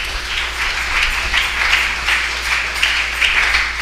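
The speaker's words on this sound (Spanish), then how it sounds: "¿Cuánto le dan un fuerte aplauso a Él?" Worshippers at a church service clap during a sermon, with a short burst of steady, pulsing applause that sounds somewhat distant and muffled over a low hum.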